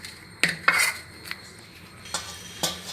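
A utensil knocks and scrapes against a pot while ragi flour is stirred into boiling water, giving a few sharp clinks and scraping strokes spaced irregularly, fairly close and alone without talk.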